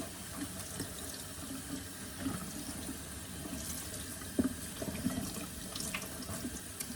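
Tap water running steadily into a sink while a reborn doll's long hair is wetted, a soft continuous splashing hiss with faint clinks, fairly quiet and close.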